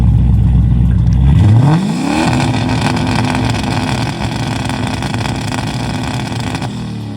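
A turbocharged LS-swapped Chevrolet C10 engine runs loud and close, with a deep rumbling exhaust that revs up sharply and then settles into a steady, throaty idle.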